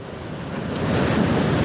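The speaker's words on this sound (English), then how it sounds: "The waves are crashing in." Surf roars steadily as waves break on the Jurassic Coast shore, with strong wind buffeting the microphone and the rush building toward the end.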